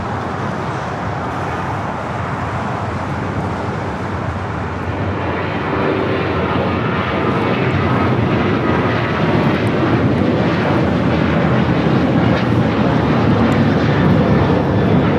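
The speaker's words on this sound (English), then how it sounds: "This is Southwest Airlines 192 taking off to Nashville on the 737-800." A Southwest Airlines Boeing 737-800 takes off, its steady broadband jet roar swelling louder and fuller over fifteen seconds as the engines build thrust, with no voices.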